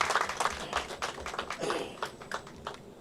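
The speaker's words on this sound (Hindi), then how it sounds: "स्वागत करिए भाई, जोरदार तालियां" A scattered audience claps to welcome RJ Vinay at a Hindi film audio launch for Badri - The Cloud, with uneven, moderately distant applause and irregular claps rather than a dense ovation.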